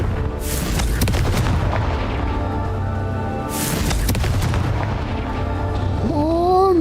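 Confringo fire spell explosions in Hogwarts Legacy: two loud booming bursts about three seconds apart, each a broad roaring blast that rolls off, followed by a rising whooshing magical tone at the end.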